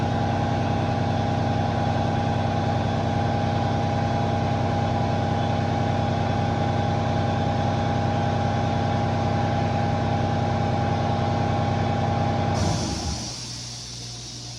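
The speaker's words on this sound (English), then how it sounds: "Sorry about my air compressor running." A garage air compressor drones loudly and steadily with a constant motor hum, then winds down and falls quiet near the end.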